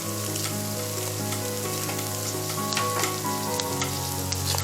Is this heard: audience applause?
no